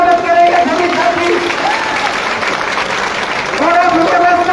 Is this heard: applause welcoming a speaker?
yes